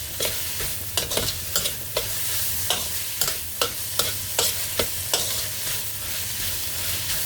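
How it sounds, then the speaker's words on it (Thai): Ham and kimchi fried rice stir-fried in a pan, spatula scraping in a steady run of sharp strokes over a constant sizzle, close and fairly loud, with no voices. "ใส่แฮมลงไป ยำลงไปผัดก่อนนะคะ"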